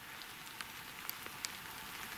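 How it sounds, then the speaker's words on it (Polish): Steady rain falling outdoors at a fishing spot, a dense even hiss with scattered sharper drops tapping nearby surfaces, no voices. "Deszcz pada, nie chciałem, żeby kamera zmokła."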